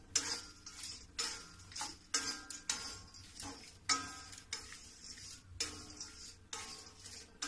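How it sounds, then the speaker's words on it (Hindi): Something is dry-roasted in a pan without ghee, stirred with a steady rhythm of light ticking scrapes, a quick regular series of small clicks, faint and close. "ये बिना घी के मैं भूंज रही हूँ।"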